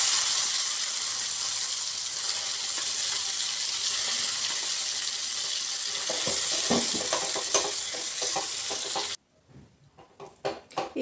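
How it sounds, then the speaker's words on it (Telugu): Chutney is stirred into a hot oil tempering in a pan, giving a loud dense sizzle with rhythmic scraping stirs. The sizzle cuts off abruptly, leaving a few sparse clinks and scrapes. "ఇప్పుడు స్టవ్ ఆఫ్ చేసుకొని ఈ పోపులో ఈ పచ్చడిని వేసి కలుపుకోవాలి"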